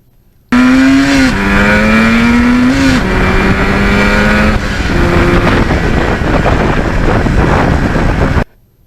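A Yamaha RD400 two-stroke motorcycle on a ride, loud and close with rising revs and clear gear changes as the pitch drops and climbs again. Heavy wind rush runs under the engine throughout, with no talk.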